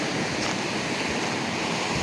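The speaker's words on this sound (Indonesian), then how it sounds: "Ombaknya nih." Ocean waves washing in steadily off an Indonesian shore while fishing in a strong current, a constant broadband roar with wind buffeting the microphone, no voices.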